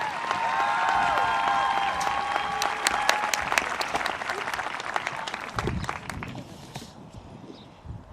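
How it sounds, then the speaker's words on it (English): A graduation audience claps at a high school ceremony, loud and full at first, then thinning into scattered claps that fade toward the end. "Please give her a round of applause as she comes to the podium."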